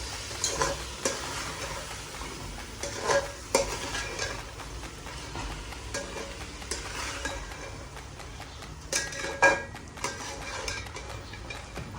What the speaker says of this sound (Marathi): आता आपण याच्यामध्ये स्वच्छ धुवून घेतलेले तांदूळ टाकूया आणि ते चांगले परतून घेऊया.